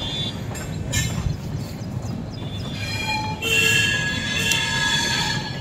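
Indian Railways train rolling past close by near a station, steady loud rumble of wheels on track with metallic squeals and ringing tones building in the second half, no talk.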